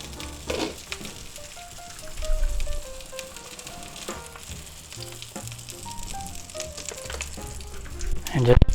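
A patty melt burger with onions and tomato frying in a cast iron skillet, with a steady crackling sizzle and light music playing underneath, then a sharp clatter at the end, close by.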